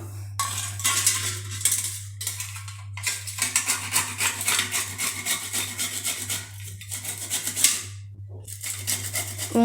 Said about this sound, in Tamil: அடுத்து இந்த பத்து பாதாமையும் நம்ம வந்து நல்லா துருவி எடுத்துக்கலாம்